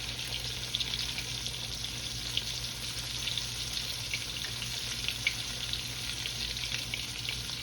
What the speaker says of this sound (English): shrimp don't take long at all to cook, y'all. Don't take long at all to cook. Put it right in the grease.